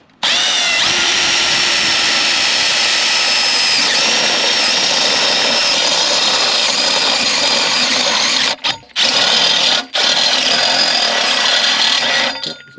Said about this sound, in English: So we're going to start to drill a hole and weld it.